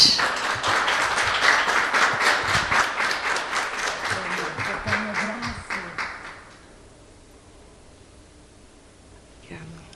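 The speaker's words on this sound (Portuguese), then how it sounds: "Uma salva de palmas para Sara Martins." An audience at a talk-show recording breaks into loud, dense applause that carries for several seconds, then thins out and fades as a voice begins speaking.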